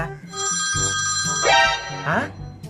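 A phone ringtone plays loudly, a repeating electronic melody with rising tones, close by and uninterrupted.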